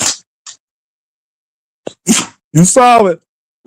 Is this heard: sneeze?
yes